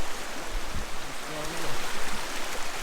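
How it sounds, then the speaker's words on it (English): Someone wades across a cold stream near Bridal Veil Falls in Spearfish Canyon, with constant rushing water and faint splashes from footsteps, and a low voice murmurs briefly partway through. "I'm going to try and cross this stream so I can get up underneath the falls"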